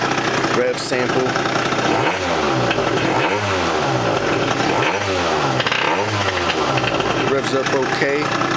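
A Yamaha Zuma scooter fitted with an Athena big bore kit, revved repeatedly up and down in close, loud swells over a constant idling drone, with a voice briefly heard.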